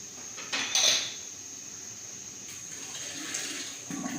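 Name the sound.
stirring black carrot kanji with beetroot, mustard seeds, black salt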